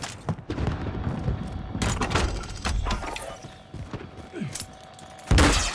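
Gunfire in Call of Duty Warzone Rebirth crackles in bursts of close, sharp shots and thumps, with short gaps between volleys and a loud blast near the end.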